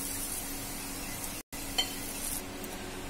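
Potato pakoras frying in hot oil, a steady close crackling sizzle throughout with a brief gap and a small pop near the middle.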